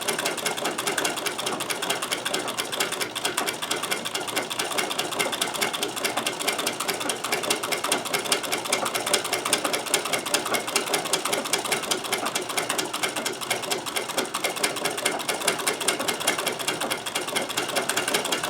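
A Necchi BU Nova sewing machine stitches a buttonhole on a shirt cuff, its needle chattering in a fast, even, continuous mechanical rhythm close by with no talking.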